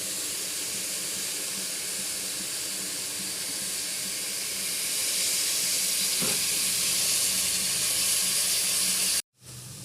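Chopped onions fry in oil in a pan on a gas stove. A steady, loud, broadband sizzle continues throughout with no speech, then cuts off briefly near the end.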